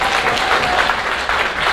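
Dense audience applause at a lecture on recruiting, steady and loud throughout, with no talking over it.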